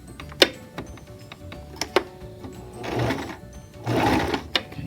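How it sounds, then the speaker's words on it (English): A sewing machine stitching a shower curtain runs in short bursts, a rapid mechanical whir with ticking clicks as it backs up and then drives forward again, close and without talk. "it's going to go backwards and do a stitch, and then I'm going to send it forward again"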